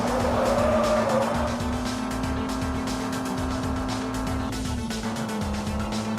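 A racing car engine in a video game revs loudly and steadily, its pitch holding high then dropping as gears shift, with tire squeal mixed in, continuous and close throughout.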